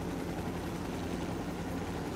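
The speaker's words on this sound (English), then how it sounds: "Okay, let's land the helicopter" Helicopter in the video game Ghost Recon Wildlands, a continuous low rotor and engine rumble, steady and unbroken, no voices over it.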